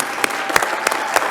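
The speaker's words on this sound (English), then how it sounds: "Give him a round of applause" Several sharp, rhythmic claps ring out at a conference hall session, evenly spaced and fairly loud, as a crowd starts applauding a professor.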